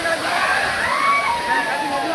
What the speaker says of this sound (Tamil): தண்ணி எப்படி விழுதுன்னு பாருங்க